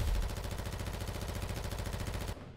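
Rapid automatic gunfire shooting at a boss in the video game Will To Live Online, a dense, loud, steady stream of shots that cuts off abruptly near the end.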